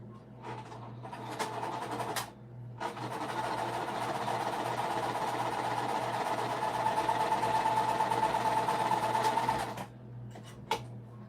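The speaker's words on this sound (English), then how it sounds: "I'm literally just gonna stitch along on the side of it where it will get hidden in the seam allowance." A sewing machine runs along a fabric seam allowance, with a couple of short bursts followed by a long, steady stretch of stitching, close and moderately loud, then a few brief stitches after it stops. No one talks.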